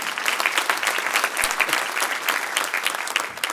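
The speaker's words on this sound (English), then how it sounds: "Give these guys a round of applause." A crowd at a community team celebration event gives a round of applause, continuous close clapping with a busy, uneven texture and a few faint voices mixed in, holding steady throughout.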